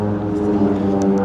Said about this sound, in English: the airplane's taking off